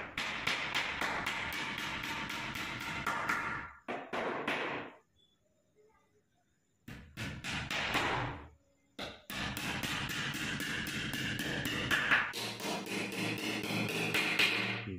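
Hammer knocks on a wooden folding bed frame joint being glued with Fevicol, coming as dense bursts of close, repeated taps with a short pause midway before the pounding resumes.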